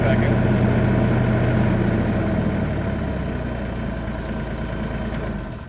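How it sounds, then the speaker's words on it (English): The engine of a Ditch Witch machine drops back to idle with a steady, close mechanical drone that eases slightly lower in level over several seconds. "it's not until you go to actually strain the unit that it brings it up, but then it'll idle it back down"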